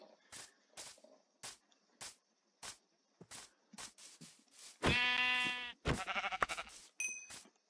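A black sheep in the Minecraft video game bleats once with a buzzy wavering call, preceded by a steady series of short clicking taps and followed by a few more sharp bursts.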